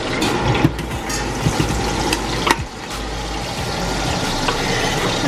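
Garlic and onion fry in a pan with a dense, continuous sizzle and crackle, punctuated by a few sharp clinks of stirring. It sounds close and steady, with no talk over it.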